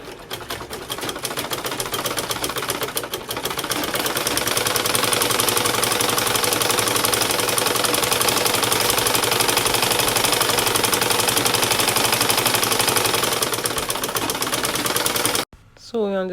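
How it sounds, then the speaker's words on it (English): A sewing machine stitching fabric for a simple turban, a loud, rapid mechanical chatter running continuously for about fifteen seconds before stopping abruptly. "So next thing is we take it to the sewing machine."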